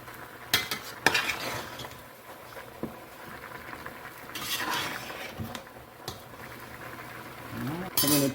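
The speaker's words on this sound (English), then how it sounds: "Put in a little bit and we stir some more." Pre-cooked potatoes frying in a pan with a low sizzle, stirred with scraping strokes and occasional clinks of utensil against pan, and a voice speaking briefly near the end.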